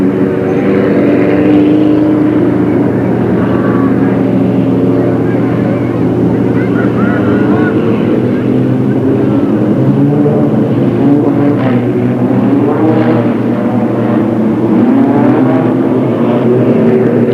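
Race cars roar around the oval at Delta Speedway in 1996, a loud continuous engine drone rising and falling as the pack passes, with a track announcer talking over it.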